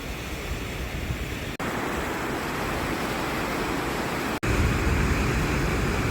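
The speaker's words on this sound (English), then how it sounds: "The name of this waterfall is Godafoss." Godafoss waterfall in Iceland roars as a continuous dense wash of falling water, loud and steady, with two brief dropouts in the recording.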